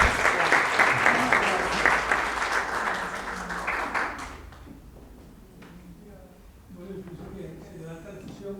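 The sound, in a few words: audience applause for panelists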